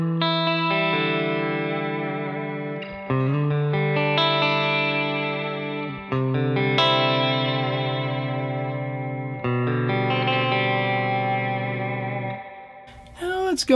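Electric guitar set clean through effects with reverb at 8: sustained chords ring out in long, shimmering phrases, each change struck fresh and trailing into reverb, with a brief scrape near the end.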